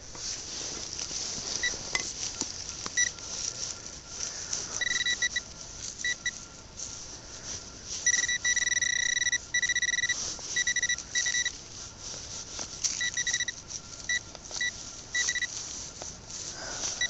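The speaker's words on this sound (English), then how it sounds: "I've just checked it with the detector." A metal detector sweeps a Dorset woodland and gives repeated high electronic beeps and warbling tones, some short and some held for a couple of seconds, over faint rustling.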